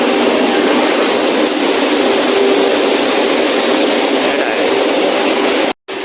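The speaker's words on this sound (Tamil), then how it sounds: "இப்போ தான் மணி 4:10 உள்ளே வருது வந்தே பாரத் உள்ள" Vande Bharat Express train pulling into a station, a steady loud broadband rumble and rush of the rolling train with a faint tonal whine, continuous throughout before cutting out briefly near the end.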